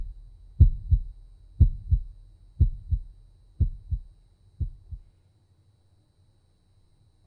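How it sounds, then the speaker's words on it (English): A heartbeat in a horror video game thumps in five slow, evenly spaced double beats, close and heavy, then stops and leaves near silence. "So heartbeat went away."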